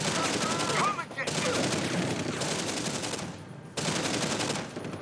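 Rapid, dense bursts of automatic gunfire from a gun in a video game, loud and sustained, broken by two short pauses before the shooting resumes.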